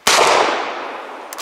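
A Winchester 1873 lever-action rifle chambered in .45 Colt fires a single loud, close shot with a sharp crack and a long fading tail, followed by a faint knock near the end.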